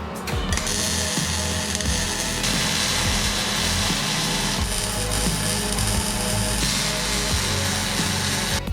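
Welding a steel bash bar for a Toyota AE86 bumper, a loud, continuous crackling and buzzing arc close by that runs unbroken for several seconds with no talking.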